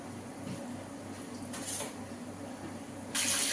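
Breaded turkey schnitzel fries in hot oil with a steady, soft hiss that swells briefly and then jumps to a louder sizzle near the end.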